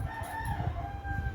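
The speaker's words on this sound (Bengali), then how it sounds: "2টো মোরগ আছে, খুব ডাকতে থাকে" A rooster crows once at a distance, a faint, drawn-out cock-a-doodle-doo with a clucking hen nearby at a rural home, brief and quiet against low background noise.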